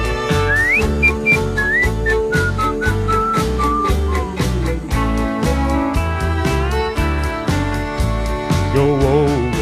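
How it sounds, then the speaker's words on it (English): Melodic whistling closes a live country song at a tribute show, the whistled tune gliding over a full band with steady drums and guitar. "Hope you like the bit of whistling there at the end."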